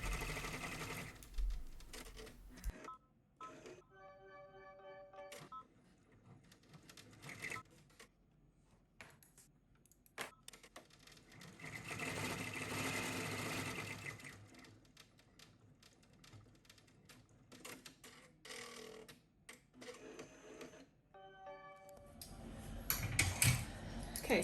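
Embroidery machine stitching the fill areas of an in-the-hoop reindeer ornament, a rapid mechanical needle chatter that runs in long stretches with short pauses and some faint talk in between.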